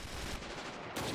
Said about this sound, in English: I want to set up a machine gun right in the best place here while all the distraction teammates are around and open fire.